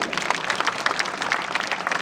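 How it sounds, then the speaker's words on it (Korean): An audience at a national tennis federation gathering claps at a speaker's request, a brief burst of many hands clapping at moderate distance, busy and uneven throughout. "맞으면 한번 동의하시면 박수 한번 부탁드립니다"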